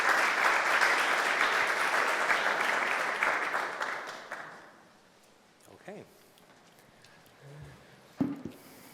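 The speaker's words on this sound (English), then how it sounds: "let's have another big round of applause" Audience applause fills a presentation hall, a dense steady clapping for about four seconds that fades away, leaving a quiet room with a few faint thumps and shuffles.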